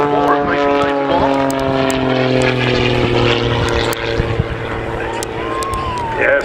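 A Pitts Special aerobatic biplane performs an airshow display, its propeller engine droning loudly and steadily with shifting pitch, while a commentator talks over the engine noise.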